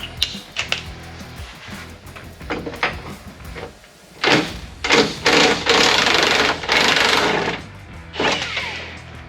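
Ratchet with an extension working loose the bumper bolts on an OBS K1500 pickup during a teardown, giving rapid clicking bursts and metallic clanks, some loud and close, separated by brief pauses.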